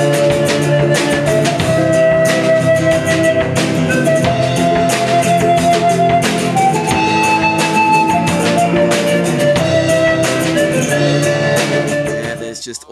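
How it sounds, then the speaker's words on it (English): A live band plays in a New York City subway station, a loud, steady full-band performance with sustained tones and rhythmic hits running continuously before tapering at the end. "Check out this band, man."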